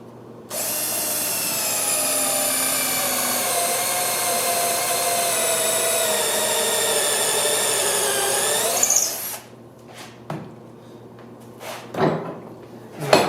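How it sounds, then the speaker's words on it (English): A power drill bores a pilot hole into a wooden handle blank, its whine rising steadily for about eight seconds before stopping, followed by a few knocks and handling clunks. "So this is just the pilot hole to get things started."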